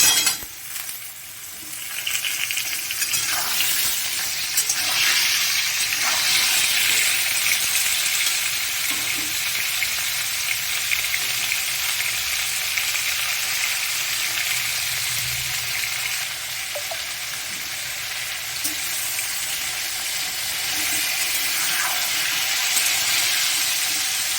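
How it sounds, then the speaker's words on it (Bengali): Papaya and potato frying together in an oily pan for a Bengali papaya curry, giving a loud continuous hiss and sizzle close up, with faint stirring and clinks and no voices. "এবার আমি পেঁপেটা দিয়ে দিচ্ছি"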